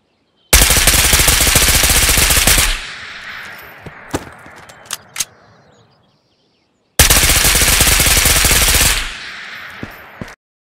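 Automatic gunfire in the VR shooter Ghost of Tabor from a rifle with an angled foregrip, two loud sustained bursts of rapid shots about two seconds each, separated by a pause with a few echoing single cracks and a decaying tail.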